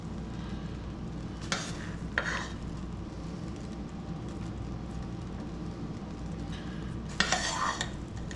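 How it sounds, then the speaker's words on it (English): Thick soap mixture stirred in a slow cooker, a low steady scraping churn with a few sharper clinks of the stirrer against the pot, close and fairly quiet with no talk. "just stir it up really good until the color's kind of uniform"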